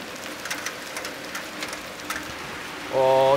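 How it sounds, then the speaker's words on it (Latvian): Hail falling during a thunderstorm in Jelgava, heard as a steady, dense patter of pellets striking surfaces, with a louder tonal hum cutting in at the very end. "Tur var redzēt pamatīgi krusu."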